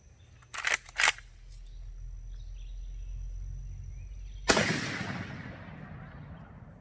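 Two sharp rifle reports from a brush gun firing hard cast bullets, close together near the start, then a louder third blast later that rings out with a long decaying tail over a steady low outdoor hum.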